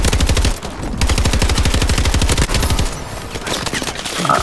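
Rapid automatic gunfire from weapons in the video game Call of Duty: Advanced Warfare, loud and close, with sustained bursts broken by brief pauses.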